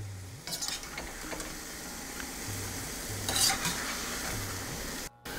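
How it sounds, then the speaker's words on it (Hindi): Mushrooms being stirred into masala in a steel kadhai, soft steady sizzling with intermittent scraping strokes of the spoon, fairly quiet and close, briefly cut near the end. "इसके अंदर हम क्या करते हैं, ये मशरूम डालते हैं और इसको मिला लेते हैं"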